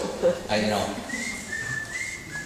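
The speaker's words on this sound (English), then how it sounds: "And I could whistle." A person whistles a sustained, slightly wavering tone that carries through a reverberant room, echoing off the walls, with a brief voice sound at the start.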